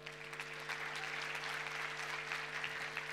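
A round of audience applause at the ENTRUM superfinal fills the room, a dense, even wash of many hands clapping throughout, with a faint steady hum underneath.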